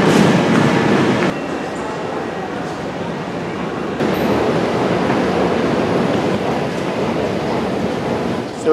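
An Elizabeth line train pulls out of Maidenhead toward central London, heard from inside as a steady, loud rumble with rail noise and a shift in tone partway through; no talk.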